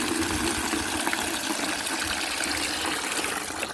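Water from an outdoor tap pours steadily into a bucket, a continuous close gushing and splashing rush that stays even throughout, with no talking.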